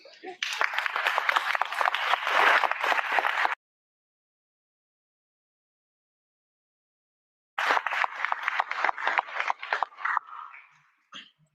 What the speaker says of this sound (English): So I think you deserve a round of applause.